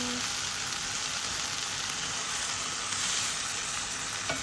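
Beef and long beans stir-fry in a hot pan, a loud, continuous sizzle with scraping stirs and no talking.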